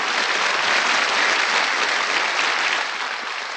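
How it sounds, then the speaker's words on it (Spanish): Studio audience applauding a band, the members just introduced, at Estudio ATC in 1988: a steady, dense wash of clapping throughout, easing slightly in the final moments, with no voices over it. "Un aplauso para ellos."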